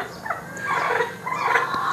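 Domestic hen clucking close by in a yard while handled, with short repeated throaty calls that rise into a louder, continuous squawking stretch, no talk.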